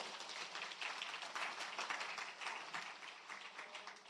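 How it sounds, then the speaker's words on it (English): The audience at a public sector debate competition claps together in a faint, distant patter that stays steady for about four seconds. "give yourselves a round of applause"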